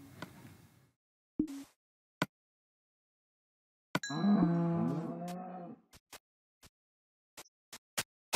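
Blocky Minecraft cows letting out a drawn-out, wavering moo in the middle, with shorter moo fragments before it and a scatter of sharp clicks and taps around it, no talking.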